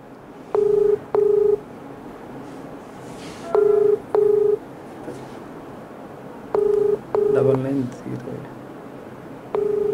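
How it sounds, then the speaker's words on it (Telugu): A ringback tone on an outgoing phone call repeats in paired pulses with long gaps between pairs, sounding clearly over a faint, noisy background with some voice. "రింగ్ అవుతుంది"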